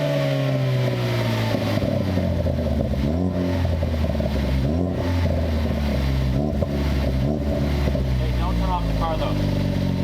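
A car with a newly installed exhaust revs up and down close by, its engine rising and falling through several throttle blips over a steady rumble with occasional crackling pops, loud throughout with a voice speaking at times.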